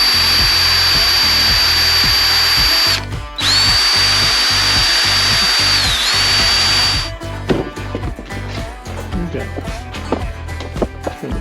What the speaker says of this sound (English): Let me get a wire brush and clean this.